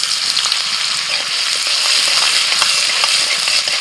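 Chopped garlic and ginger fry in oil and butter with whole spices for a village-style chicken stew, giving a loud, continuous close sizzle with faint stirring clicks and no talk.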